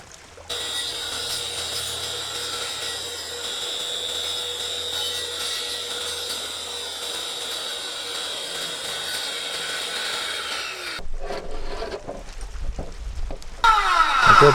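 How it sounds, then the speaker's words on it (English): A circular saw fitted with a diamond blade cuts aqua board during a bathroom remodel, giving a steady, loud whine that runs nearly the whole time before breaking into rougher bursts near the end. "I'm using a skill saw with a diamond cutting blade"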